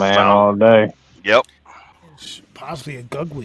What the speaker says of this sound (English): That's a dog, man.